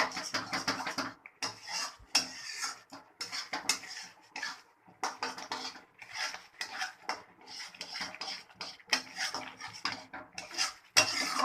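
Thickened khoa for gulab jamun being moved into a vessel, with repeated metal clanks, scrapes and clinks of utensils against the pot, steady and close, with no talking.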